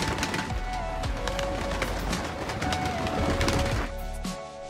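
Pigeons coo repeatedly close by, soft throaty calls over a busy background of other birds and faint clatter.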